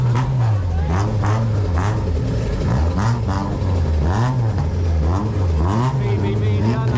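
A V8 car at an underground car meet in Thailand revs loudly and repeatedly, its engine note rising and falling in steady waves close by.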